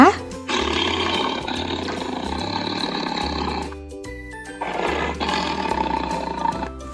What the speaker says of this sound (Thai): เสือ